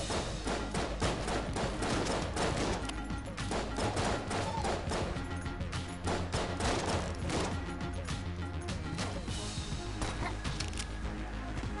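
Rapid bursts of flare gun fire in the video game Enter the Gungeon, dense crackling shots and impacts running continuously and loudly throughout, layered over busy game effects.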